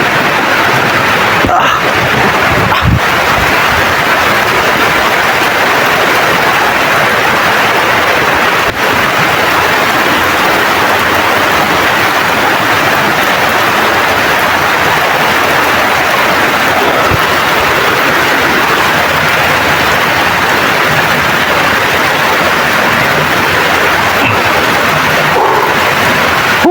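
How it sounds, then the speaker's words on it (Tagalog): Heavy rain pours steadily and loudly beside a creek, a dense unbroken wash of noise that fills the whole stretch, with occasional thumps and a brief muffled voice underneath. "Lakas ng ulan."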